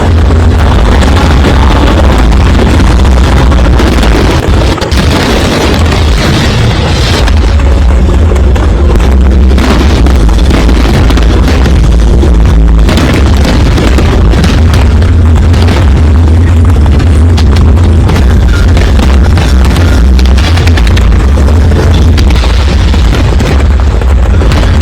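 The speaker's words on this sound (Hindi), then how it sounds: "उसके बाद देखिए जरा अयोध्या में आतिशबाजी, और ऐसी आतिशबाजी जो इससे पहले नहीं देखी।" Fireworks burst over Ayodhya during the Deepotsav 2025 festival of lamps, a dense, continuous barrage of loud booms and crackles that saturates the whole stretch without pause.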